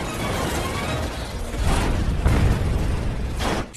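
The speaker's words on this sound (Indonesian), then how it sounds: "Karigan lebih dulu menembak Ghost Rider dengan peluru granat" A grenade round fired at Ghost Rider in a film sends up a loud, broad explosive roar with booming low rumble and several sharp bursts, sustained for nearly four seconds before cutting off.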